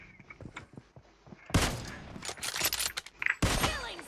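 Gunfire in a video game with an M24 rifle, starting as scattered soft clicks and small shots, then two loud bursts of rapid shots with echoing tails, close and dominant.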